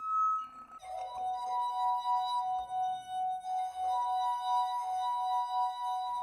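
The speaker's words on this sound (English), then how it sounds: "Can you hear the champagne tingling?" Champagne fizzes in a glass with sustained ringing glassy tones and faint bright clinks, heard close and alone with no talk.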